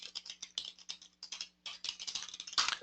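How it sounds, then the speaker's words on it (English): Someone types a comment on a computer keyboard, a quick, uneven patter of close key clicks in short bursts with brief pauses, fairly quiet and without talk. "then we type a comment in here"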